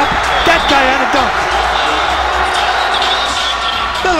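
A basketball arena crowd roars and cheers loudly and continuously after a dunk in a Winthrop at UNC Asheville college game, with commentators talking over the noise.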